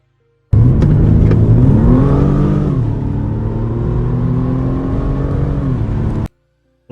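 A car races at very high speed through city streets, its engine roaring loud and close as the revs climb and then hold a steady, droning whine for several seconds before cutting off abruptly.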